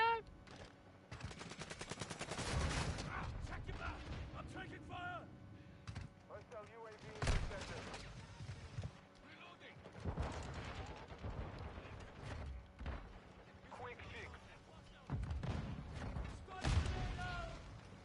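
Rapid bursts of video game gunfire, some sharp single shots and some automatic volleys, loud and close at intervals with quieter gaps, while players talk over the action.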